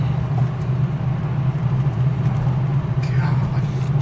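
A Ford Mustang fitted with an off-road exhaust, heard from inside the well-insulated cabin: a steady low engine drone with road rumble, and a brief rise near the end, under a passenger's voice.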